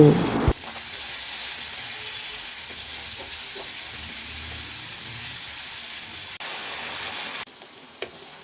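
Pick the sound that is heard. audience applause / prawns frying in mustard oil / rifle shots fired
prawns frying in mustard oil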